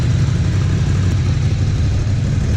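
A Ducati Scrambler 1100 motorcycle engine running, a loud, continuous low rumble at a steady idle close by, with no speech over it.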